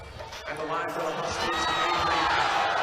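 A crowd roars and cheers at a women's college basketball game between Maryland and Washington, a swelling wash of voices that builds steadily and stays loud, with squeaks from the court mixed in.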